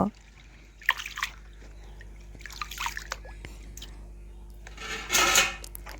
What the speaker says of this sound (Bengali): এখন ঢেলে দিচ্ছি দেখুন কতটাই ঘন জল বের হচ্ছে